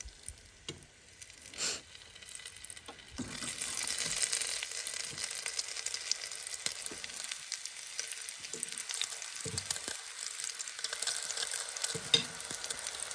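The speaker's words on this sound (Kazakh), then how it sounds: "Майға салған кезде міне қараңыздар, май деген осындай шыжғырып тұру керек." Battered chicken for KFC-style fried chicken sizzling in very hot oil, a steady close crackle that swells after a few seconds and carries on with occasional soft clunks and stirring.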